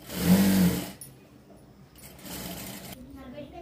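A sewing machine runs a double stitch along a long frock, whirring loudly for about a second before dropping to a quieter hum, with a voice talking over it.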